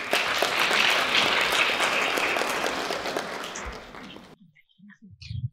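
Audience applause at a staff amateur concert held for 8 March at the Budker Institute of Nuclear Physics, a dense, steady roar of many clapping hands that stops abruptly near the end, leaving a brief quiet with a few faint sounds.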